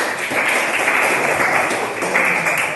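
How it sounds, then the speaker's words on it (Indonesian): Classmates in a school lesson applauding a student, a short burst of many hands clapping together, steady and fairly loud, with no talk over it. "Tepuk tangan untuk Arvina"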